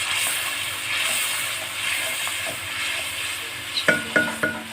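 Steady frying hiss fills the clip as onions sizzle in hot oil with salt and red chili, a tempering for sarson ka saag, with a few sharp clinks of a utensil against the pan near the end.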